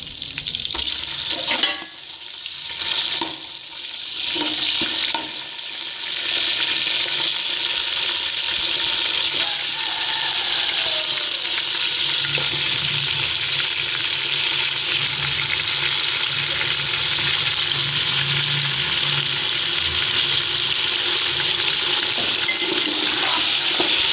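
Meat sizzles and fries steadily in masala for degi-style aloo gosht, a dense continuous hiss with a few stirring scrapes near the start, loud and close with no talking.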